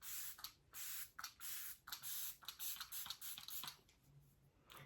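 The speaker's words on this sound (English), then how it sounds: "I'm just going to top it off with the Makeup by Mario Soft Sculpt Setting Spray." Makeup by Mario Soft Sculpt Setting Spray misted onto a face in a quick series of soft, close pumps, each short hiss separated by brief pauses, with no talking.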